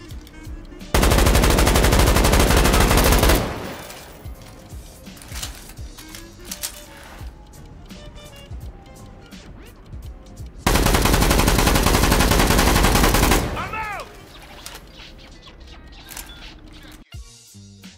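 Automatic rifle fire from an M4-style weapon in the World War 3 video game, two loud sustained bursts of a few seconds each separated by quieter mechanical handling sounds.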